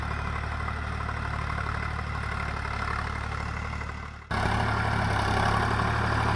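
A Sonalika DI 745 tractor engine idles steadily out in a field with a plough attached, a low continuous rumble that dips briefly and then resumes slightly louder.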